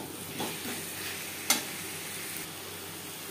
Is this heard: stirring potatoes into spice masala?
yes